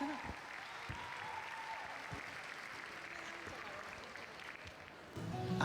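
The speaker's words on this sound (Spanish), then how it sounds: "Fuerte aplauso ahora sí para Plus." An audience at a cosplay contest claps for a contestant, a moderate, steady patter of applause from a hall crowd that swells slightly louder in the final moment.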